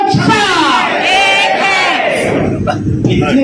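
A large crowd at an EPS pensioners' rally shouts a slogan in unison, loud and close, with rising and falling chanted voices that carry on continuously throughout.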